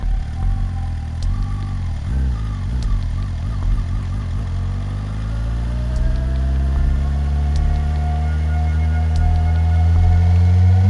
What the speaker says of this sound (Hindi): वो अपने आप शुरू होकर घर चली जाती है।